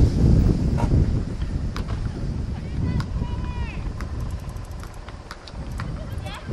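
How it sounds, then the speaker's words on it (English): Strong wind blasting a microphone beside a girls' high school soccer field, a loud rumbling roar that gusts hardest at the start, with a voice talking over it. "But the wind is just brutal."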